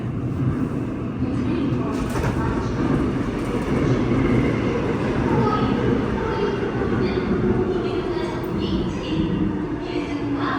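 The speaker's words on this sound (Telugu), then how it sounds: "ట్రైన్ వస్తుంది" A Seoul metro train rumbles steadily into an underground station, a loud continuous low roar with rattling carriages and faint squeals, no voices.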